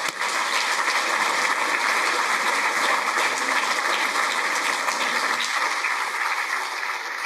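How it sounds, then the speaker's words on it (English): A lecture audience at the British Museum gives a loud, continuous round of applause, an even wash of many hands clapping that holds for several seconds and eases slightly at the end. "please join me in a round of applause to welcome Paul"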